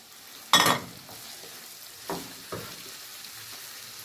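Colorful bell peppers tossed into a hot pan land with one loud sizzling burst, then two quieter stirring scrapes follow over a faint steady fry.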